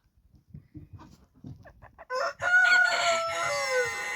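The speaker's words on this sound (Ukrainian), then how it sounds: "Півник співає." A rooster crows loudly and close by, one long rising and falling call following a few seconds of soft clucking.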